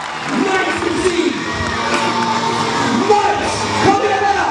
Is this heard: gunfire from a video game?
no